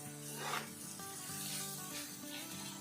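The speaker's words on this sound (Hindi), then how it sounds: "अब साथ के साथ बीज भी फ्राई करेंगे, साथ के साथ प्याज भी और फ्राई हो जाएगा" Onion and bitter gourd seeds fry together in a pan, a soft continuous sizzle with light stirring and faint background tones, no voice.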